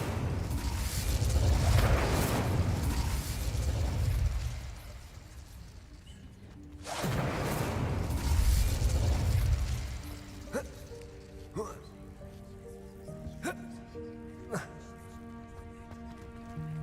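Incendio fire spell cast in the video game Hogwarts Legacy: two loud, roaring whooshing bursts of flame a few seconds apart, followed by quieter game music tones and small chimes.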